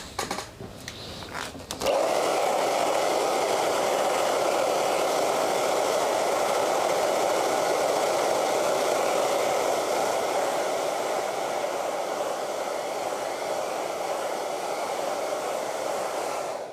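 A hair dryer switches on after a brief quiet start with handling clicks, then blows with a loud, steady, continuous whoosh to the end.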